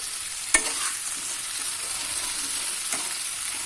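Potatoes stir-frying with spices in a pan over a raised gas flame make a constant close sizzle. A sharp utensil knock comes early and a fainter scrape follows later, with no one speaking.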